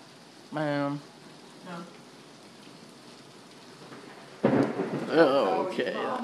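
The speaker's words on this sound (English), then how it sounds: "Hear that thunder?" Thunder rolls during a storm with rain falling, a deep rumble that swells in the second half over a steady rain hiss, after a brief voice near the start.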